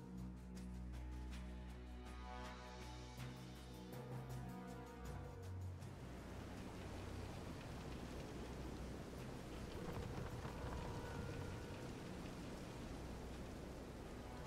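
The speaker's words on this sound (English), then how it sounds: "This is some storm." Stormy weather at sea in the video game Vision of Mana: a steady, dense wash of rain and wind noise running through the whole stretch, with music fading out early and rough surging underneath.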